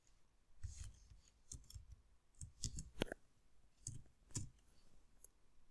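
Typing a command on a computer keyboard at a command-line interface: scattered, uneven clicks and taps of keys, close and fairly quiet, in short bursts with pauses between them.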